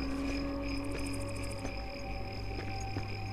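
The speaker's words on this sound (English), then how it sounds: "Hear those crickets in the background." Crickets chirp in a jungle valley in Killzone 3, a steady high trill with faint rhythmic pulses over a low ambient hum, soft and distant.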